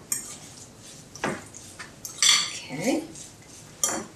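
Tofu being mixed with spices in a bowl for a vegan no-egg salad, a few separate clinks and scrapes of a utensil against the bowl, close and sparse, with a short spoken word.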